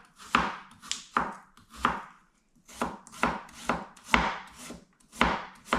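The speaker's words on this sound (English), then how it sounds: "I'm starting first with the ginger, onions, cutting them, and then it's garlic, which I'm cutting also" A knife chopping ginger, onions and garlic on a board, about a dozen distinct thuds in irregular bursts of two or three with short pauses between, close and clear, nobody talking.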